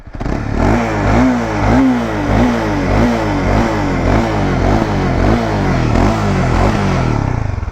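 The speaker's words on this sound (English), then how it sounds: "The old original CBR muffler. Nothing too fancy about it." Honda CBR300R motorcycle on its original stock muffler revving steadily and loudly close by, with a rhythmic rise-and-fall throttle pattern and no talking.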